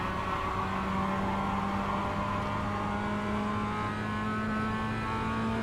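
In a racing video game, a race car engine holds a steady, loud tonal drone around a track, with slight pitch shifts as it rises and falls through the lap.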